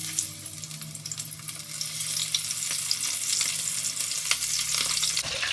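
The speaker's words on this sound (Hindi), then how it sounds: "3 पीस हम फ्राई कर लेंगे।" Chicken tikka pieces fry in hot oil with a steady broad sizzle, and short clinks and stirs sound over it. The sizzle shifts slightly near the end, with no voices.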